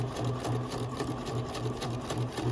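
A sewing machine stitches a taped seam in a rapid, evenly pulsing chatter, with the needle beating in a regular rhythm, close and steady with no talk.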